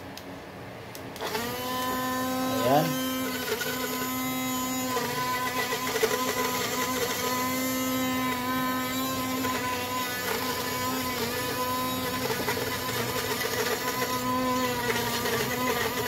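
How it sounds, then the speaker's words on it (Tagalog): A kitchen blender whirs steadily as it purees boiled broccoli for a six-month-old's meal, its loud, even motor whine starting abruptly after a brief pause and running continuously to the end. "nalaga na natin yung broccoli at i-blender natin."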